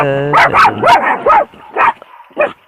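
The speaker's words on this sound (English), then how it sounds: "who are you barking at?" Dogs bark on a back porch at a primitive campground, about seven sharp, loud, close woofs in an uneven run, with a low whine at the start.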